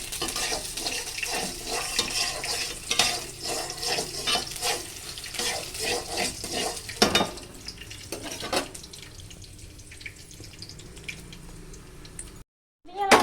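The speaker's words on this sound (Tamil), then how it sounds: "ஆனியன் போட்டு அதில் சேர்த்து நல்லா இப்போது ஃப்ரை பண்ணிக்கணும்" Chopped onions fry in a pan while being stirred, giving a steady sizzle broken by frequent scraping and clattering strokes of the spoon against the pan.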